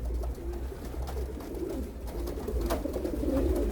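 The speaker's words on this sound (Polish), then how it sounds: "No, wesołe, gruchają." Light-coloured pigeons in a loft coo in soft, repeated low murmurs, several birds overlapping close by, with occasional rustles and faint knocks and no talking.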